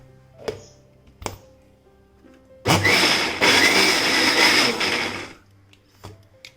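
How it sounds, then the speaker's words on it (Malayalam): An electric mixer grinds banana with half a cup of wheat flour for banana halwa in a loud, close whirring run of about three seconds, with brief clicks and knocks before and after. "ഈ ഗോതമ്പ് മാവും കൂടി ചേർത്തൊന്ന് അടിച്ചെടുക്കണം."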